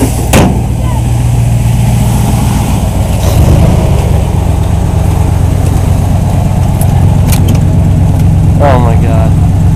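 A Ford Bronco engine after a cold start in a shop, running with a steady, loud low rumble throughout, while people talk over it.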